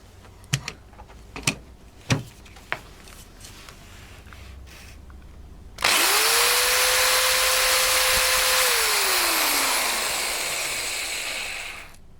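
A Black and Decker KR705K hammer drill fitted with a fairly new Bosch bit runs up loud and steady for about six seconds after a few clicks and taps, its whine falling away as it spins down.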